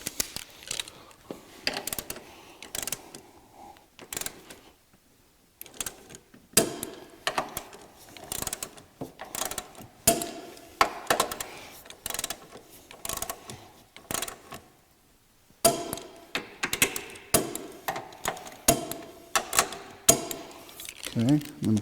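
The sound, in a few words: ratchet tightening 14 mm shock mount bolts, Acura TL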